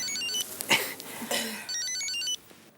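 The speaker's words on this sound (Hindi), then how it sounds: "मेरे उच्च अधिकारी का ही फोन है," An electronic telephone ringtone trills in two bursts of rapid repeated beeps at moderate level, with a brief rustle and cough-like noise between them and the ringing cut off abruptly near the end.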